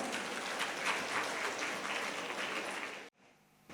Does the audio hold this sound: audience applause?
yes